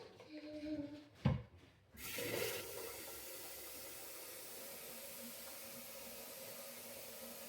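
One and a half litres of water poured into a mixture at home, a sudden splash and then a steady rushing flow that runs on evenly, moderately close, after some soft handling noises.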